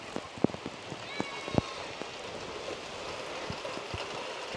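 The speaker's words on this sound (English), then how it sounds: "Hey, it's just rain." Rain patters steadily as Hurricane Beryl arrives, a soft, even hiss broken by scattered close taps and thumps, with faint voices in the background.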